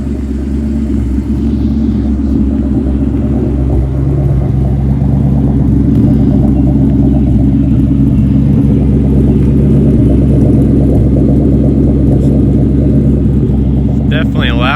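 A Terminator Cobra engine with a Bassani/Magnaflow exhaust rumbles loud and steady, a deep continuous drone from inside the car while driving, with someone talking over it.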